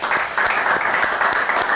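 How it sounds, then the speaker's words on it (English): An audience breaks into steady applause, a dense wash of many hands clapping throughout with no break. "I think we should give her a big round of applause."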